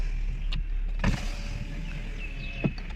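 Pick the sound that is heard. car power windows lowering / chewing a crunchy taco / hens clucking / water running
car power windows lowering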